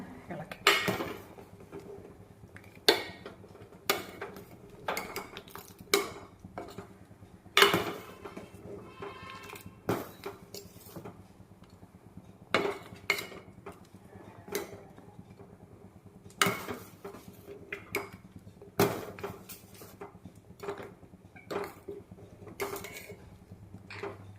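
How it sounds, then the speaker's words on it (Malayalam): A spoon scrapes and knocks against a pot while thick kootu curry is stirred and reduced, giving repeated sharp clinks and scrapes at an uneven rhythm, with a voice talking in between. "ചുവട്ടിൽ പിടിക്കാതെ നന്നായിട്ട് ഇളക്കിയെടുത്ത് നന്നായിട്ടൊന്ന് കുറുക്കിയെടുത്ത് വാങ്ങണം"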